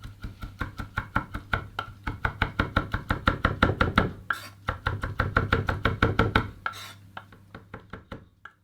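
A knife chops rapidly on a board through oyster adductor meat, quick evenly spaced strikes in a long run, with a brief pause midway and a low hum underneath.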